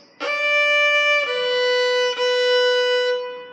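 A violin plays the opening of Lightly Row: one sustained bowed note followed by two slightly lower repeated notes, each clear and resonant with smooth bow changes, close and alone in a quiet room.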